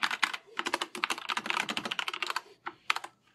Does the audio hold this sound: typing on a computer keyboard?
yes